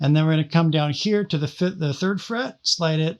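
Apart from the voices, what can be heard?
None of the usual background noises is heard.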